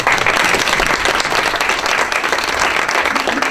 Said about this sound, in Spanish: un aplauso para la maestra Ana Luisa Fábio